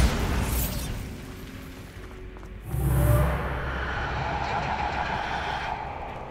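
A Bombarda blasting spell goes off in a video game, one deep booming explosion partway through, rising out of a rumbling background and trailing off into a low fading roar.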